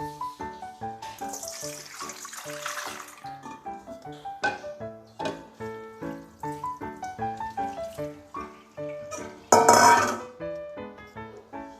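Rice is washed in a water-filled bowl to make khao mak, with sloshing and swishing water, grains rubbing, and occasional clinks of a bowl or pot, close and fairly loud with no talking.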